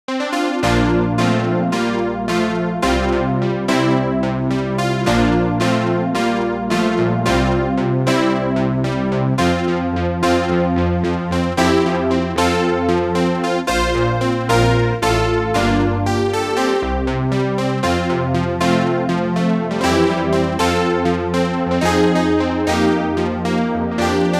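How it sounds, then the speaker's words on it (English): Rhodes Chroma synth with a gnarly, edgy tone playing a dense keyboard groove over a deep bass line, loud and continuous with rhythmic chord stabs and no voices. "is from a Rhodes Chroma synth, and it's got a little bit of a gnarly edge to it"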